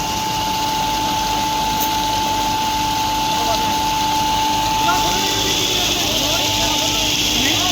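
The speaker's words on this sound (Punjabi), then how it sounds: "ਪਿੰਡ ਲੰਬੀ ਪੰਪ ਸੈੱਟ ਲਾਇਆ ਜੀ 15 ਐਚਪੀ ਦਾ" A 15 HP lift pump set in Lambi village pumps water with a loud, steady mechanical hum and rushing gush, close and unbroken, while people talk over it.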